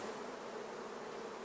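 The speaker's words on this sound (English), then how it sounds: "They're a little fired up, aren't they?" A dense, steady buzz of many honey bees swarming close by, sounding busy and agitated throughout.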